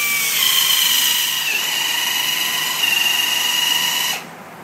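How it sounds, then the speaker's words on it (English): A dual-action sander runs continuously on a yellowed, oxidized 2002 Honda Civic headlight lens, a loud steady high-pitched whine that cuts off near the end. "you take your DA and you're going to start sanding it"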